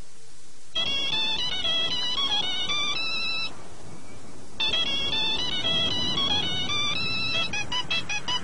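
A bright electronic mobile-phone ringtone melody plays loud and clear in a 2000s Spanish TV advert, starting after a short pause, breaking off, then repeating.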